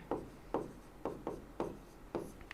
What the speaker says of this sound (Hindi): ब्रैकेट लगाएंगे और ये लिखेंगे